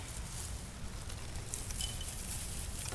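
Steady rain falling in a garden strawberry patch, a continuous soft patter with low rumble, fairly faint and even throughout, no voices.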